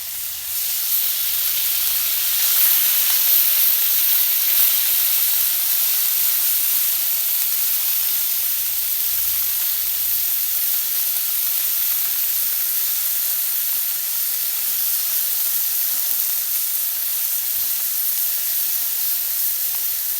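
Small river puti fish frying in hot mustard oil in a pan, producing a loud, steady, close sizzling hiss that runs unbroken the whole time, with no voices.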